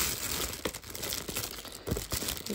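A plastic sachet of live bacteria being torn open by hand, close crinkling and crackling of the packet with a few sharper tearing rips, fairly quiet and with no talking.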